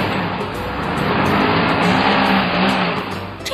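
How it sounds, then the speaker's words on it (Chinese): A car's engine revs hard on a muddy grass track as it sits stuck in the mud, a loud, steady roar with rising and falling throttle and no talking over it. "突然间怎么踩油门汽车都走不动了"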